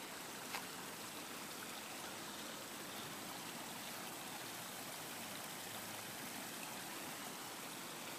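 Water trickles steadily and faintly into a backyard koi pond, a soft continuous splashing wash with no pauses and no voices.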